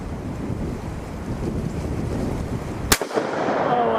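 A single sharp shot from a Colt Anaconda .44 Magnum revolver fired outdoors at a range in strong wind; steady wind rumble fills the mic before one loud crack near the end, followed by a brief echo.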